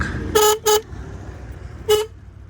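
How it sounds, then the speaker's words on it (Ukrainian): A Suzuki Address V125G scooter horn gives two quick toots, then a third a moment later, loud and close, over a quiet background. "Бібіка працює, чуть-чуть її там треба поправити."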